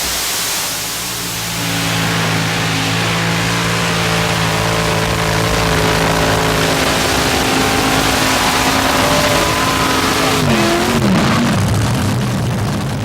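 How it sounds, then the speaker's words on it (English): An alcohol-burning aluminum big block Chevy drag race engine roars loudly and steadily at the track, a dense, harsh blast that holds at full power before shifting in pitch near the end. "Alcohol burning aluminum big block Chevy. He's going to fire him down the right side of the track this time."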